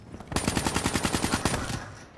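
Automatic gunfire in the video game Call of Duty Black Ops III multiplayer, a single sustained burst of roughly a dozen evenly spaced rapid shots, close and punchy, lasting about a second and a half.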